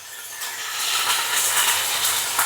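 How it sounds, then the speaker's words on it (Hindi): Chicken pieces with ginger and garlic fry in a pan with a loud, steady, close hiss and sizzle and no talking. "तो यहाँ पे चिकन को थोड़ा सा भून लिया।"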